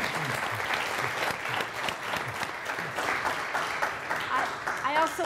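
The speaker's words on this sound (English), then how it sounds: "let's give them one more round of applause" An audience at a business school talk gives a round of applause, dense sustained clapping throughout, with a voice speaking over it near the end.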